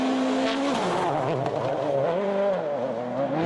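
Martin Prokop's World Rally car on the snow and ice of Rally Sweden 2012, engine loud and close, revving and shifting with rising and falling pitch as it drives.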